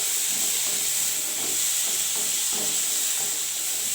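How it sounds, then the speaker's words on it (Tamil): Tomatoes sautéing in a pan for a chutney give a steady, close hiss and sizzle, with soft rhythmic stirring scrapes under it. "பாருங்கள் தக்காளி நல்லா வதங்கட்டும்"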